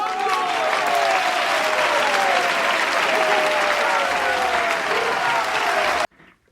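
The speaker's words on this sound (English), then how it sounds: "deserves a round of applause," A round of applause from a crowd plays steadily and evenly for about six seconds, then cuts off abruptly.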